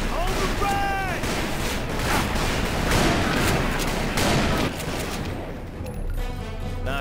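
Dense, rapid volleys of gunfire crackle and boom in the video game Call of Juarez: Bound in Blood, loud and nearly continuous, while voices shout over the shooting.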